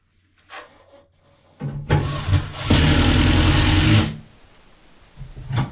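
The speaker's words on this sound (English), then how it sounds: "I'm just going to throw a screw right into that joist." A power driver runs a screw up into a wooden ceiling joist during drywall work. After a brief start, a loud, close motor whir holds steady for about two seconds, then cuts off.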